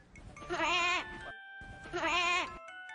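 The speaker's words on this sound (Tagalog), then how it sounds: "Sumunod kay Maria ang isang maliit na tupa hanggang sa sila'y makarating sa eskwela. Ba! Ba!" A lamb bleats twice in close succession, each cry a loud, wavering, nasal call of about a second with a short pause between, clear and near with no talk over it.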